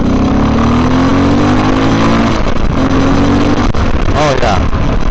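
A Honda XR650L single-cylinder engine is revved up and down loudly at close range in a series of rising and falling pulls, with voices talking over it.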